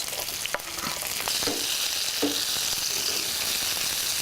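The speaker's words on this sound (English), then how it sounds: "Now we're going to add the chili. Stir it and add the tomatoes." Garlic, chili and tomatoes stir-fried in a pan for a Balinese tomato sauce: steady loud sizzling throughout, with a few scraping stirs and a soft knock near the start.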